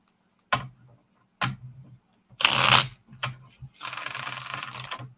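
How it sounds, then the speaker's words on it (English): A deck of reading cards being shuffled by hand, heard close and crisp as several separate bursts: short riffling snaps and clicks, then a longer dense flutter of cards riffling together, with quiet gaps between them. "Boy, those cards were really shuffling nice."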